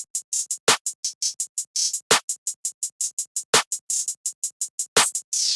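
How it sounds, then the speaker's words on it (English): A looping pattern of sharp, bright claps, with crisp hits and occasional heavier accents landing at regular intervals, with no talking. "I laid down a basic clap pattern"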